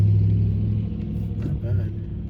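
A straight-piped Chevy truck's exhaust rumbles deep and close on a street in Pulaski, Tennessee, a low throaty drone with slight revving, people talking over it.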